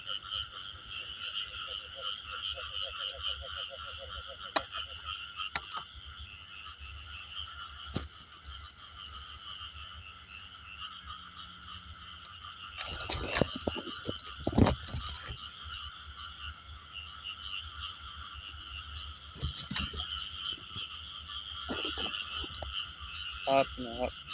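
Frogs croak at night in a rural field, a dense continuous chorus of high trilling calls with scattered nearer croaks and clicks, and brief faint voices partway through.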